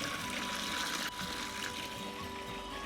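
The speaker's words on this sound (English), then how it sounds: "Now that we have water overflowing" Water steadily overflowing from a Riverdance Mini Jig gold-prospecting jig, a continuous rushing trickle with a brief dip partway through, close and fairly loud, with no talk.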